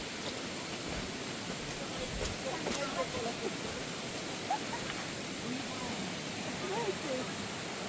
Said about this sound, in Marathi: आता पोचले आम्ही आता सातसाडा वॉटरफॉलला त्याला सातसाडा वॉटरफॉल यासाठी म्हणतात हे सात टप्प्यामध्ये पाणी पडतं